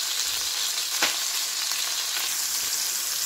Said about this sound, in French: Ma viande commence à colorer, je vais ajouter le poivre noir.